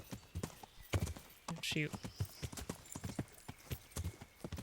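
Horse hooves clip-clop up a steep hill in the medieval game Kingdom Come: Deliverance, steady close footfalls with a brief whinny partway through, a voice speaking over them.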